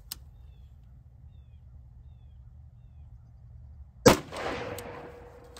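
A single sharp 7.62x39 rifle shot from a CMMG Bufferless Descent strikes level 3+ backpack armor, a loud crack with a ringing tail after a few seconds of quiet background hum.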